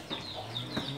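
A mother hen clucks during a rescue of a buried hen, giving short close clucks and calls in quick succession with faint background noise.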